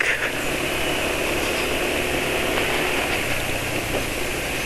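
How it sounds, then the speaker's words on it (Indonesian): An engine running on Amsoil Signature oil idles rough at low RPM, giving a steady, continuous, close mechanical drone with a coarse, uneven texture that never rises or falls. "makanya suara di RPM rendah kasar"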